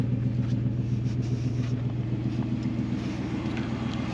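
An overland truck's engine rumbles low and steady as it drives through a small mud hole on a national forest track, a close, even drone with no talking.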